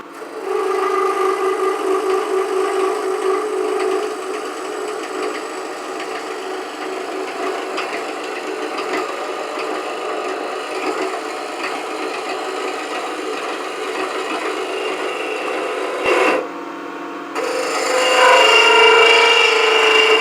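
A shop-made beading and parting tool cuts a tenon on a spinning cherry burl blank on a lathe, a continuous loud scraping hiss over the motor's hum that briefly drops out near the end before resuming.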